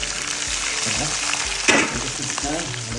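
Chopped onion and capsicum fry in a hot pan while making chilli paneer, a steady close sizzle with scraping stirs and one louder clatter near the middle.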